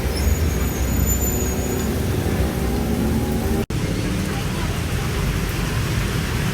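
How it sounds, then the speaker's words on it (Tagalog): Steady rain falls outdoors during a typhoon, a continuous broadband hiss and patter that holds evenly throughout with a brief dropout near the middle; no talk is evident. "Umuulan."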